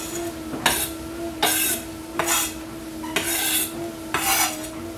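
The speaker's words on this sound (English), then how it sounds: "I'm going to put in all my chopped onions" Chopped onions tipped into a pot for crab noodle soup and worked with a utensil: five evenly spaced scraping, rasping bursts against the metal over a steady low hum, close by, with no talking.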